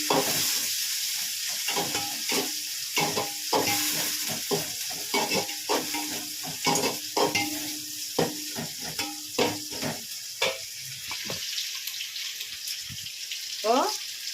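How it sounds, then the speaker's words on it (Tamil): Onions sautéing for sambar sizzle in a hot pan, broken by repeated clinks and scrapes of a spoon being stirred, close and fairly loud. "இப்போ வெங்காயம் நல்லா வதங்கிட்டு இருக்கு."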